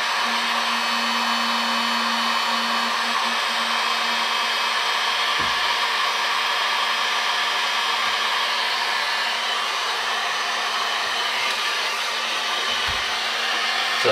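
Heat gun shrinking dual-wall adhesive heat-shrink tubing during wiring work on an F100 race truck, a steady loud blowing hiss with an electric hum, running unbroken throughout.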